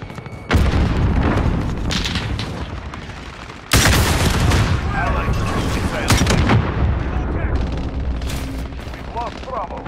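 Grenade blast in Call of Duty: Modern Warfare, with a heavy, loud boom cutting in partway through, amid continuous battlefield gunfire and explosions, with voices shouting over the din.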